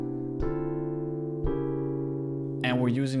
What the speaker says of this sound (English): For that, I loaded up an electric piano,